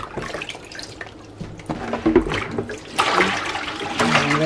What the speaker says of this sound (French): On verse l'eau.